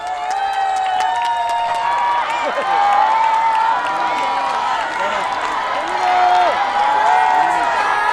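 Warm applause and cheering from a festival crowd greeting a young singer at the Goheung yuzu festival, steady and loud throughout with bright tonal music or voices riding over the dense clapping.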